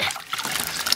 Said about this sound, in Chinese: 这里先洗一下豆角，先洗一洗